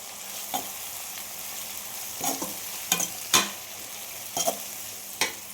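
Tomatoes, ripe and squeezed by hand, sauté in a pan for a fish curry made with seer fish, giving a steady soft sizzle with irregular clicks of stirring.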